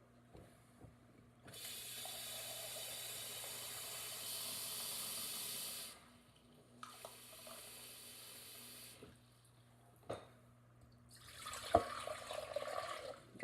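Water pours steadily from a tap into a glass measuring cup in three separate runs, a hissing, splashing stream, with small clinks of glass between pours.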